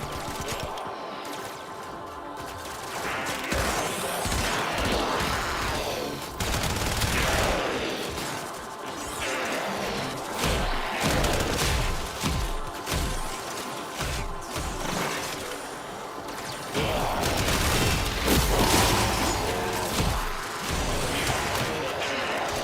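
Rapid gunfire from the sci-fi shooter game Warframe, dense bursts and repeated shots layered over a steady in-game music bed, loud and continuous throughout with brief lulls between volleys.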